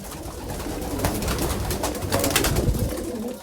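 Several young racing pigeons coo softly and continuously in a darkened loft, a low murmuring chorus with scattered wingbeats and rustling, fairly close.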